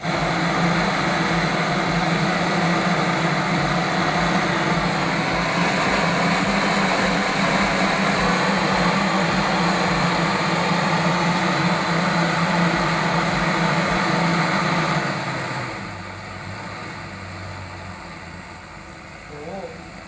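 A Kovea gas torch burner roars steadily at full flame, a loud dense continuous rush that drops off abruptly near the end, leaving a quieter low hum.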